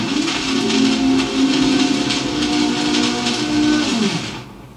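A very old vinyl record spins too slowly on a record player set to 45 RPM, producing loud, drawn-out low droning tones over constant surface hiss until the sound fades out at the end.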